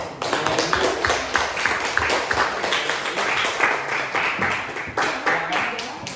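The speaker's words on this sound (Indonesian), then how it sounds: "kita kasih aplaus dulu untuk kelompok 2" A group claps in a classroom setting, applause for a student group: steady, dense clapping lasting the whole stretch, fairly close and even, with no talk over it.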